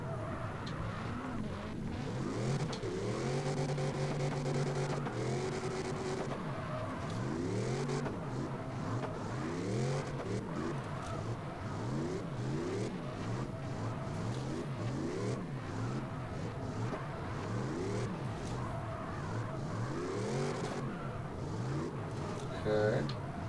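Racing cars rev and drift on a drift track in the video game CarX Drift Racing Online 2, with engines rising and falling in repeated sweeps and a steady whir throughout, while someone talks over the game.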